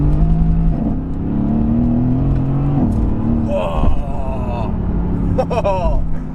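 A rear-wheel-drive supercar in Sport Plus manual mode accelerates hard, its engine droning and rising in pitch through the gears, loud and close from inside the cabin.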